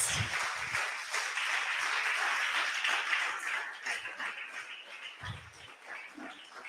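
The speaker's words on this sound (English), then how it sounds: "Let's give a loud clap for our Jesus." A church congregation claps steadily for Jesus, a broad wash of many hands that fades slightly toward the end, with faint low voices mixed in.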